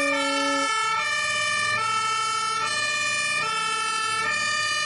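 Fire truck siren wailing on a road, a loud, sustained tone that rises and falls in steady repeating cycles close by, with a faint engine rumble beneath.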